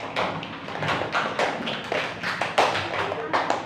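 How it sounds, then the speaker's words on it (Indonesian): A classroom group applauds for group A: a short burst of scattered, uneven hand claps with a few soft thumps, close and moderately loud. "Tepuk tangan untuk kelompok A."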